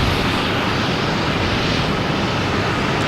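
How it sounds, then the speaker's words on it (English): JetBlue airliner arriving at Boston Logan from Cancun, loud close roar of jet engines that stays steady and dense throughout, with no voices. "We got JetBlue coming in here from Cancun."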